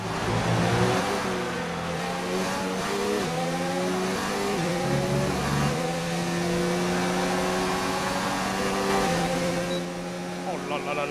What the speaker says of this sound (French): J'enfonce ma pédale pour essayer de chercher un maximum de vitesse de pointe.